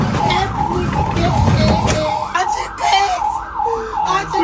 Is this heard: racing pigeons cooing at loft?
no